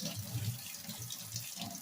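Water runs steadily from a copper kitchen faucet as it is rinsed during cleaning, a close, continuous splashing flow with no talk.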